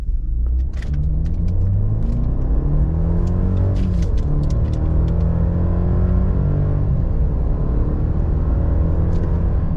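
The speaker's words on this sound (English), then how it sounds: "TurboMax 0 to 60 off of idle" A 2026 Chevrolet Silverado with the 2.7 TurboMax engine pulls hard from idle to 60 mph, its rumbling engine note sweeping steadily upward through the gears over about ten seconds, loud and close inside the cab.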